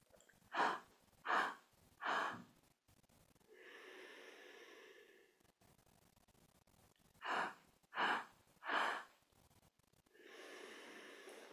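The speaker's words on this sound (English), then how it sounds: "inhale three breaths through the mouth and exhale long and deep through the nose" Three quick, sharp inhales through the mouth in a steady rhythm, each followed by a long, drawn-out exhale through the nose during kundalini yoga breathwork, the cycle repeating twice, close and clear with no talking.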